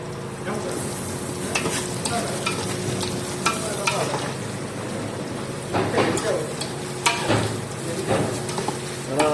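Chopped onions sizzle in a pan, a continuous frying hiss broken by clattering stirs and scrapes of a utensil, with a voice talking at moments over the cooking.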